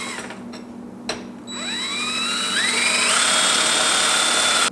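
A power tool bites into metal to cut an undersized hole for a turbo pipe on a twin-turbo Malibu, a rising, whining high-pitched grind that climbs and holds steady, loud and close.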